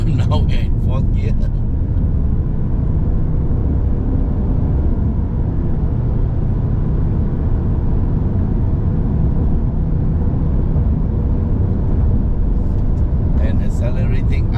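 Kia Carnival seven-seat MPV climbing the Genting hill road in traffic, its engine a steady low drone with road and tyre rumble from inside the cabin, faint clicks at the start and end.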